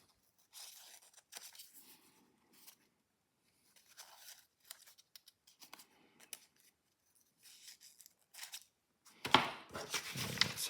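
Scissors snip quickly through paper to cut out a shape for a lever-and-linkage model, a series of short crisp cuts separated by pauses, ending in louder rustling close to the ear.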